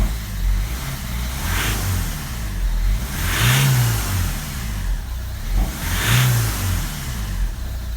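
A Ford Mondeo MK4 TDCi diesel with a failing dual mass flywheel is revved out of gear, three distinct surging revs spaced a few seconds apart over a steady close idle.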